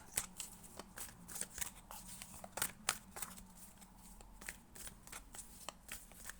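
Tarot cards being shuffled and handled up close, with repeated crisp riffles and flicks in an irregular rhythm, no talking.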